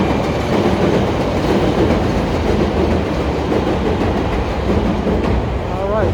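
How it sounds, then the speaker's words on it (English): Elevated train rumbles past on a rainy downtown Chicago street, a steady loud roar of rail cars with a rising squeal near the end, heard alongside city bustle and faint music. "pause right here and show you the train. There it comes."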